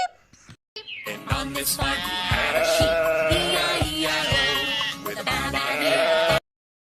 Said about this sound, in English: S for sheep